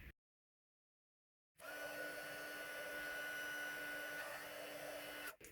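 Heat tool blowing to melt white embossing powder on cardstock: after a brief silent gap, a steady whooshing, whining blower drone starts abruptly and holds loud and even for several seconds before cutting off, no talk.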